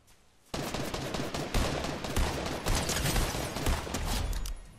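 Rapid automatic gunfire in Fortnite OG bursts in after a quiet half second, a dense, loud rattle of overlapping shots with brief dips, continuing steadily close up with no talk.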